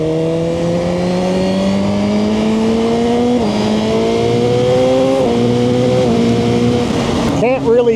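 Suzuki GSX-R1000R sportbike launching under launch control on back roads, a loud, close engine note climbing steadily in pitch through several gear changes with brief dips between shifts, ending in a sharp burst.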